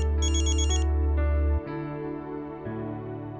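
A loud electronic phone ringtone plays a repeating melodic tune close by, then cuts off abruptly, leaving softer tonal chiming behind it.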